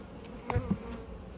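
Honey bees buzz around an open hive in an apiary, a faint steady hum with a couple of brief louder passes close by, no talk.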